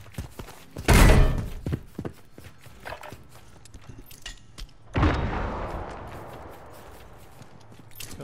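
Gunfire in a video game: two loud, sharp shots about four seconds apart, the second trailing off into a lingering echo over quieter game sounds.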